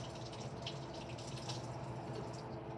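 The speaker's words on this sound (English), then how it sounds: "Turn on the water, and wash off your paintbrush and your hands." Tap water running steadily into a sink while a paintbrush and hands are rinsed of tempera paint in a kindergarten setting, a faint continuous trickle and splash with no voices.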